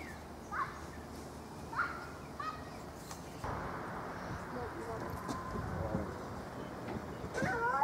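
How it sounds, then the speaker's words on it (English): Free-ranging chickens cluck and squawk in short bursts outdoors, with children's voices and background noise beneath them. "We're letting some of our chickens free range for a little while."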